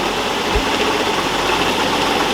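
A steady, even engine drone comes from a car on a dyno, its 727 transmission held in second gear on a trans brake, with a faint low thump early on and no voices.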